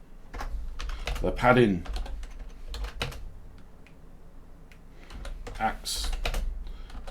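Code typed on a computer keyboard, brisk irregular clusters of key clicks close to the mic, heard beneath someone talking.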